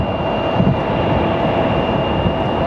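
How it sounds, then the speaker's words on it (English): An American Airlines Boeing 737 MAX jet airliner at Phoenix Sky Harbor Airport gives off a loud, continuous engine roar with a faint steady whine above it, sustained throughout the short stretch. "we do have an American Airlines 737 MAX coming up soon"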